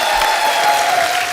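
Enthusiastic studio audience applause for a singer on a comedy talk show, loud dense clapping throughout with a faint tone running beneath it.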